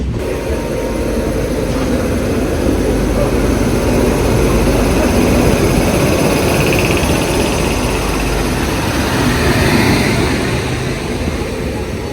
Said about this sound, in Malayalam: നേരത്തെ ഒരു വിമാനം പോയതില്ല, ഒരു ഗൾഫ് സ്ട്രീം എന്ന് പറഞ്ഞ കമ്പനിയുടെ വിമാനമാണ്.